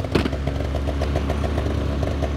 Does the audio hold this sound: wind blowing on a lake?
no